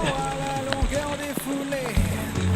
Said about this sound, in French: Une bonne petite pluie tropicale pour terminer ce trail.